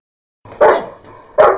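A police sniffer dog barks twice, two sharp close barks separated by a brief pause, loud against a quiet outdoor background.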